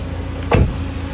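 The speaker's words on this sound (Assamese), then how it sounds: "পাৱাৰ উইণ্ডোটো আপোনালোকক দেখাই দিলোঁ মই" A Maruti Suzuki Swift VXI's power window motor runs in one short, close burst of about a tenth of a second, rising above a steady low idle hum.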